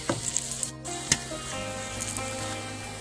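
Stuffed chili fritters (mirchi bhaji) frying in hot oil, giving a steady close sizzle with a few sharp crackles and a brief clink near the start, no voices.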